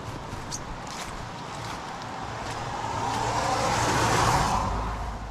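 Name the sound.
cars passing by on a road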